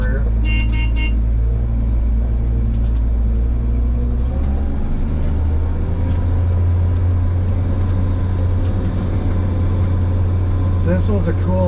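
Bedless 1951 GMC barn-find truck on a test drive, riding rough with no weight on the rear: loud, steady close engine drone and road rumble throughout, with a few brief higher toots near the start and end.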